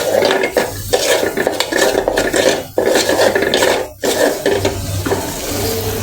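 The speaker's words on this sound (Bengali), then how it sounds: "আর সাইড দিয়ে আমি মশলাটাও কষাই" A spatula scrapes and stirs spice masala frying in a pan beside fried fish, loud and close, with a steady rasping rhythm broken by short pauses.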